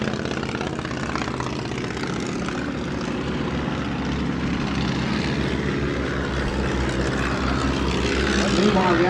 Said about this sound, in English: Swordfish taxi to the hold runway 20.